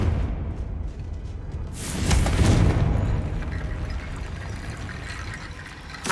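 A Confringo blast in Hogwarts Legacy bursts out as a loud, roaring whoosh that swells and fades over several seconds amid continuous game ambience and rumbling.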